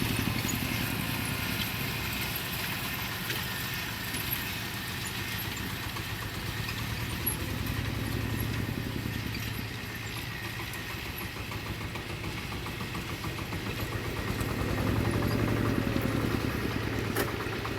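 A tractor engine runs out in a field with a constant low rumbling drone that swells slightly toward the end, heard from a moderate distance with no talk.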